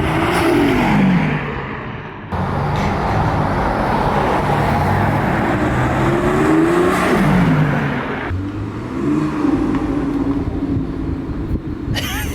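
A BMW M140i fitted with an Eventuri intake sweeps past, engine note rising and falling as it passes close by with the road noise, followed by further passes.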